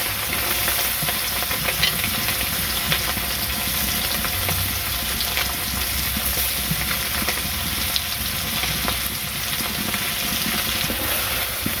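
Fish sizzles and fries steadily in a pan for Bengali shukto, a dense continuous crackle with faint bubbling held at an even level throughout, no voices.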